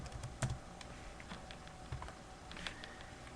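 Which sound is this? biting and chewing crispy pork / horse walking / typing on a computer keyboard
typing on a computer keyboard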